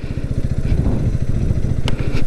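Motorcycles of a group of bikers ride past a hilltop fort lookout, a loud, steady low engine drone with rapid firing pulses that holds for the whole stretch, with a brief sharp clatter near the end.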